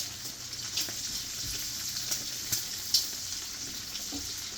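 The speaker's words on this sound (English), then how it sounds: "Hang on, I gotta give my bacon a bit of a stir here." Bacon for burritos sizzles steadily in a pan, a continuous close frying hiss broken by several sharp clicks and scrapes of a utensil stirring it.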